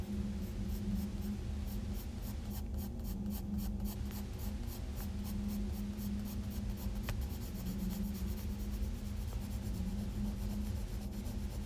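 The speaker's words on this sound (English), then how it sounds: "I'm flicking my pencil outward like this" Pencil shading on paper while drawing a ribbon, a steady close scratchy rasp of graphite strokes flicked outward, continuous and quiet with no voices.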